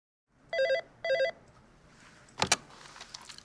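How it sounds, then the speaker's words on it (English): An office telephone rings in two short electronic trilling bursts, then a brief clatter follows as the handset is picked up, with no talk. "Then, Doi received a phone call"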